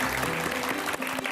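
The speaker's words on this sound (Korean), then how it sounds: "다시 한번 박수 주실까요?" A studio audience claps at a Korean broadcast talk, a brief burst of steady, moderately loud applause from a small crowd.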